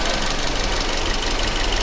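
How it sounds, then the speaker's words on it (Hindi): A Toyota Corolla GLI engine runs with a misfire, a steady close mechanical rumble with knocking and vibration, no voices over it. "अब फिर भी इंजन में कोई फ़र्क नहीं पड़ रहा"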